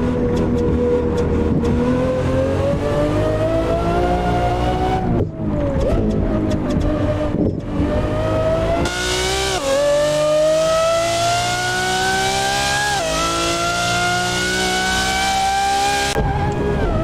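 A Lamborghini Aventador SVJ V12 revving hard through the gears, a loud, near, screaming engine note that climbs, drops sharply at shifts and climbs again, with brief lifts between pulls and no talking.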